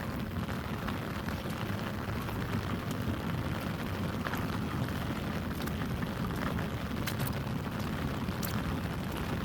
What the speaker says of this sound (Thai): มันออกพรรษาแล้วนะครับฝนน่าจะหมดนะครับ แต่ก็ ตกตลอดครับ